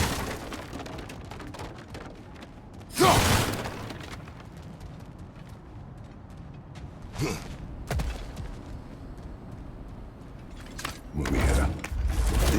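Crashing, splintering impacts as Kratos smashes through objects in God of War Ragnarok, a loud burst near three seconds and more near seven, eight and eleven seconds, over a low rumbling game backdrop.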